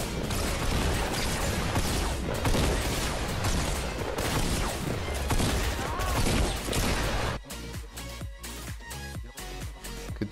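Dense gunfire from the Fortnite video game, rapid bursts and overlapping shots filling most of the stretch before thinning into sparser, sharper individual reports near the end.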